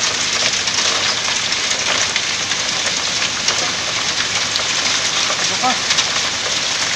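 Hail falls outside in Limassol, Cyprus, a dense, steady rattle of ice pellets on surfaces that stays loud and continuous throughout.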